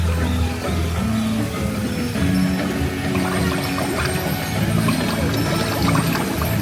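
An interactive water fountain display at Epcot sprays and splashes steadily, a continuous rushing, pouring wash of water with a busy crowd murmur and music-like tones underneath.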